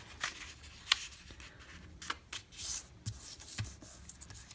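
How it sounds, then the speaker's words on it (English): Sheet of paper being folded by hand for a mini notebook craft, heard as several soft, close crinkles and rustling creases spaced out over a few quiet seconds. "So you fold it over"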